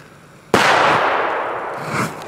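A single sharp, loud blast from a Polish B-class firecracker (Böller) cracks out and leaves a long echoing tail that slowly fades outdoors, with no voices during the bang.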